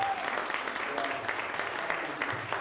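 Audience applause for a pastor at a roundtable with Puerto Rican leaders in Orlando, a moderate, fairly distant wash of clapping that runs steadily through, with voices murmuring underneath.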